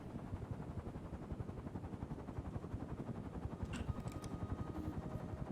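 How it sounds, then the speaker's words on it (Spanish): Steady rhythmic thumping of helicopter rotor blades in a video game, a low continuous chop, fairly faint with a few brief higher clicks. "Se escucha un helicóptero, ¿no?"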